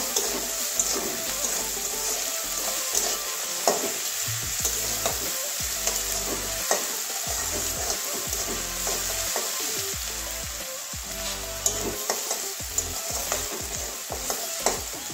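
Grated ginger and garlic frying in a pan, a continuous loud sizzle broken by frequent stirring scrapes and clinks of a spatula, close by and with no one talking.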